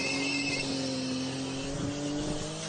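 Car tires skidding and squealing through a burnout in a tight backyard space near a shed, the engine roaring steadily and loud throughout with a continuous tire screech layered over it.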